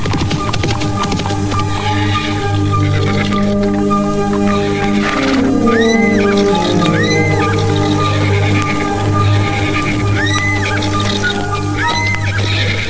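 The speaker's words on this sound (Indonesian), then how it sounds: "Mereka bertiga meninggalkan istana dengan berkuda." Horses heard with repeated neighs and whinnies over a dense, loud background of music or drone, the animal calls recurring several times through the stretch.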